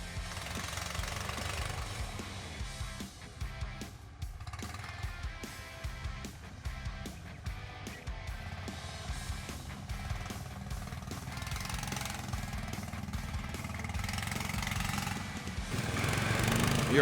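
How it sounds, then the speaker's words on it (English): A homemade snow sled powered by a 20 HP engine runs steadily at a winter sled contest, a chugging, knocking motor with rapid rhythmic pulses, fairly close, swelling slightly toward the end. "The next sled is called Fisherman with 20 HP engine."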